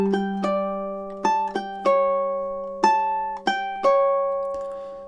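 Two bars of a TV theme are picked out on a ukulele, a steady sequence of about eight plucked notes that ring and decay between attacks. The playing is close and clean with no speech.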